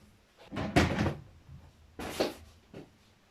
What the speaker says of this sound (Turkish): Şu çekmeceyi hiç ellemeden direkt kenara koyacağım.